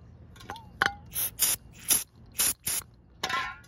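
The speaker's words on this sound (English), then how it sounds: "take a bit of brake clean, hit the sensor with it" Short hissing bursts of brake cleaner spray hit the throttle sensor on a 2015 Ram EcoDiesel, about seven quick squirts in a row, close and crisp with quiet pauses between.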